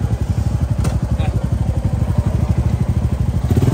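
A touring motorcycle whose loose chain was being repaired runs close by, its engine making a rapid, even thumping pulse that never stops over a few seconds.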